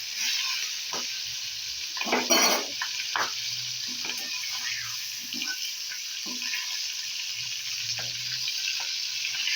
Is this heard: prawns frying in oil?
yes